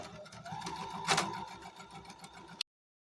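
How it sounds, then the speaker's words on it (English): A sewing machine runs steadily as it stitches a quarter-inch seam on a quilt block, a close, quiet whirring hum that stops abruptly. "you're just going to put it on the sewing machine and you're going to sew 1/4 of an inch seam away from that line"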